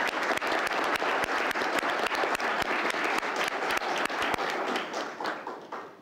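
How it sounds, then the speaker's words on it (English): An audience at a school district press conference claps warmly in steady, dense applause that holds for several seconds before tapering off near the end. "I would very much want you to warmly give a round of applause to Ms. Cynthia Ontiveros"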